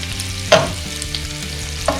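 Kale and chorizo sautéing in a pan for scrambled eggs on toast, a loud close steady sizzle broken by two quick stirring knocks, no voices.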